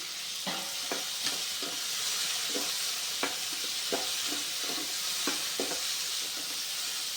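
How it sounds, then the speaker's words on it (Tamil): Four tomatoes sautéing in a pan with curry leaves for a banana-flower kuzhambu: a steady close sizzle with scattered clicks and scrapes of a spoon stirring throughout. "தக்காளி நல்லா வதங்கணும்."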